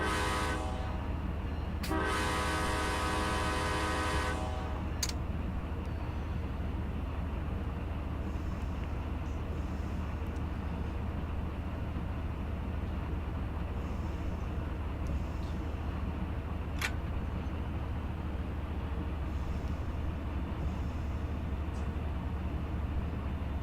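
In the Run 8 train game, a CSX OCS train passes on the Mohawk line, a continuous rolling rail rumble with a loud horn blast early on and faint distant horn notes later.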